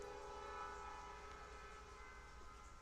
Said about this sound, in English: Yes, train, you made your point.